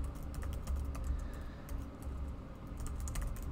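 Rapid typing on a computer keyboard, a quiet, steady patter of light key clicks close by with no voices.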